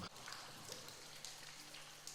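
Water drips and patters like steady rain onto the lake inside the Padirac chasm cave, a continuous hiss of drops that fills the whole stretch with no talking.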